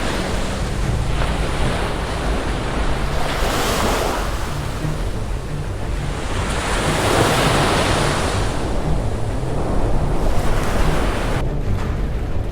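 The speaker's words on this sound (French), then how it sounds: "Les vagues couvertes d'écume blanche s'écrasaient les unes après les autres sur l'eau, créant un son furieux et implacable" Ocean waves topped with white foam crash one after another in open sea, a loud, continuous roaring surf with repeated swells and steady wind noise throughout.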